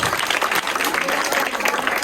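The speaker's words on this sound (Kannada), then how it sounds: "ಚಪ್ಪಾಳೆ ಚಪ್ಪಾಳೆ ಚಪ್ಪಾಳೆ." Audience applauding at a Ganesha festival rangoli competition prize announcement, dense continuous clapping close and loud throughout.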